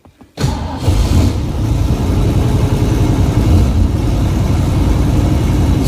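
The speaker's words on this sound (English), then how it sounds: "I'm going to start this video out by doing a cold engine start so you can see what the oil pressure is" A cold muscle car engine cranks and catches, then settles into a loud, steady fast idle with a deep, rumbling throb held close up to the end.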